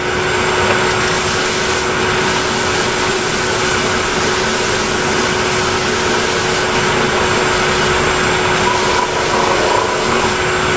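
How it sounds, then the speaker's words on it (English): A shop vac running as dust collection on a 6-inch drum sander, a steady loud whooshing roar with a constant whine, alone and unbroken throughout. "And now, if I turn on my shop vac"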